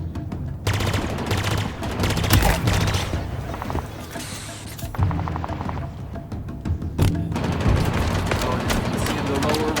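Dense gunfire bursts and rapid automatic weapon fire from the Halo Infinite video game, loud and continuous with booming impacts throughout, no voice heard over the action.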